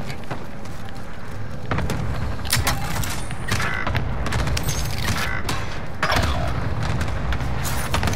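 Gunfire and heavy booms ring out in a Call of Duty: Modern Warfare battle, with sharp shots in irregular bursts over a dense, loud rumble of explosions and mechanical clatter, and no clear talk.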